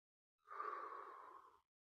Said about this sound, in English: I hope you can hear the breathing through the mic